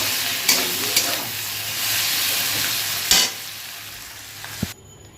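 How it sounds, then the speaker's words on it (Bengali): Fish oil fries in a pan with a constant hissing sizzle, broken by a few sharp crackles and pops and some stirring. The frying is close and steady, and no one talks. "কেমন ফাটছে দেখো এখনো।"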